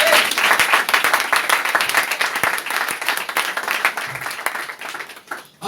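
Church congregation applauding the Lord during a French-language sermon, a dense, steady wash of many hands clapping that fills the room, fading slightly toward the end with no talk over it.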